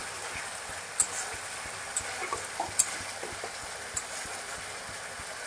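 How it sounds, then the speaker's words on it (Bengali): Spice masala fried in oil for doi katla: a soft, steady sizzle in a pan, broken by several sharp spatula scrapes and taps as it is stirred, close by and without talk. "এবার ভালো করে মশলাটাকে কিছুক্ষণ সময় নিয়ে ভালো করে কষায় নেব, যতক্ষণ ধরে মশলাতে তেলগুলো না ছাড়ায়।"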